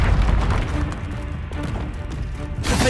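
A Confringo blasting spell explodes in Hogwarts Legacy, a loud booming crash that rolls on with dense rumble, followed by a sharp new burst near the end.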